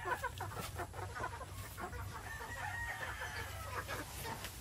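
Several Battlecross-breed chickens, including newly added hens, cluck steadily close by, a busy flock chattering over a low outdoor rumble.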